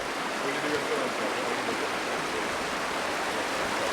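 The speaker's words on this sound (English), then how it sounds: "So here's the normal river where it's supposed to be." A river rushes past a blockage where its course has split, giving a dense, continuous broadband wash of flowing water that stays steady and loud throughout, with no voices heard.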